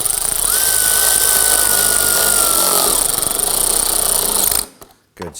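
A power tool drives screws into a parking assist sensor on a 2003-2014 Volvo XC90, giving a loud, steady whine for about four and a half seconds before cutting off abruptly.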